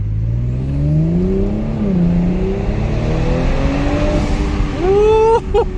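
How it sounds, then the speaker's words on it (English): A 2022 Audi S5 Sportback fitted with an 034 intake revs steadily, its engine note climbing and falling with a thin turbo spooling whine riding on top, loud and close, ending with a sharp rise. "The whining, you can hear the spooling"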